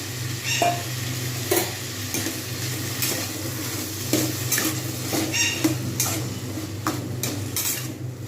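Onion flower stalks frying in plenty of hot oil, a steady close sizzle with periodic clinks and scrapes of a spatula stirring the pan, no talking.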